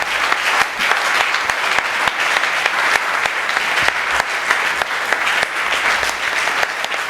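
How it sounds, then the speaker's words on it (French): A church congregation applauds for the Lord during a Sunday worship service: loud, sustained clapping from many hands, steady and dense throughout, with faint crowd voices mixed in. "Est-ce que quelqu'un peut acclamer pour le Seigneur?"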